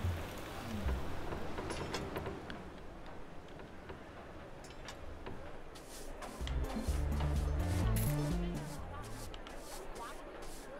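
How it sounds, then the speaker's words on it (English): Steady rain ambience from the theme-park video game Parkitect hisses softly beneath continuous commentary, with light ticking patter and faint crowd babble throughout. "Ugh, no wonder it's raining."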